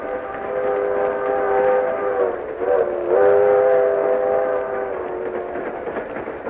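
A train, as a drama sound effect, keeps up a steady rolling rumble under a sustained horn or whistle tone that wavers and dips midway, loud and continuous throughout.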